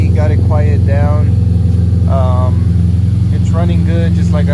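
K20-swapped car idling through a 3-inch exhaust system, a steady low, even drone running the whole time beneath someone talking close to the microphone.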